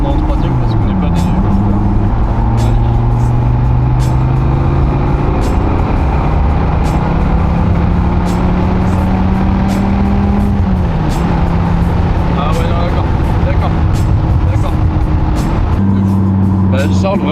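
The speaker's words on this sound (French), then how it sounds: "On va essayer une accélération linéaire" A Dodge Viper GTS with a 650 hp engine accelerates hard in third gear, the droning engine pitch climbing steadily inside the cabin, with a shift near the end and people talking over it throughout.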